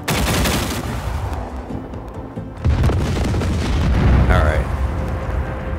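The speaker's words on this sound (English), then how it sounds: "let me take out these little gasoline tanks" Gasoline tanks blowing up in the video game Just Cause 4, a run of loud booming blasts and rumbling gunfire-like bursts that fill the whole stretch, with a brief whistling tone near the end.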